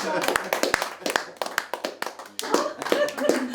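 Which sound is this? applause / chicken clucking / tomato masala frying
applause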